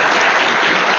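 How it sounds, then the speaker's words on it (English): A conference keynote audience applauds in a dense, even burst of clapping, loud and close, lasting about a second. "So let's give Alex another round of applause"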